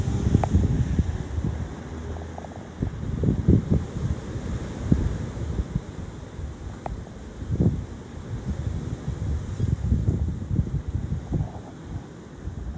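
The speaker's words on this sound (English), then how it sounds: "it's very, very windy" High winds at Jaywick on the coast, a loud gusting roar buffeting the microphone in irregular surges with no talking.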